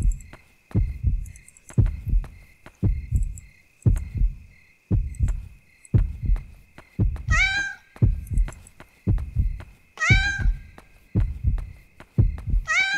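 A cat meows twice in Yomawari: Night Alone, two sharp, clear calls set against a steady, slow thumping heartbeat and a low background hum, with no talking.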